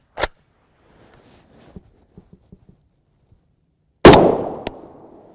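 A 7.62x39mm rifle with a 16-inch barrel fires a single loud, sharp shot into ballistic gel with a ringing decay. A quick crack opens the clip, followed by faint clinks, then the main blast.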